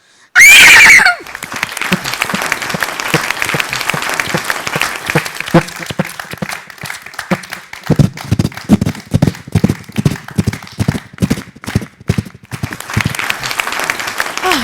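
A person imitates a horse, opening with a loud whinny and then clicking out a fast, steady galloping rhythm.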